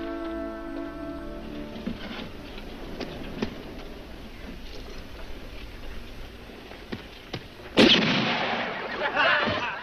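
Sharp cracks and clicks sound faintly over a quiet background, then one louder gunshot bang rings out near the end, followed by a fading rumble.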